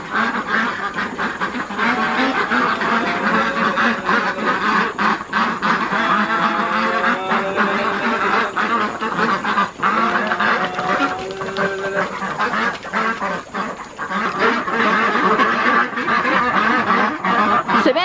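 Ducks at a duck farm quack loudly and continuously, many birds calling over one another in a dense, close chorus, with faint voices now and then.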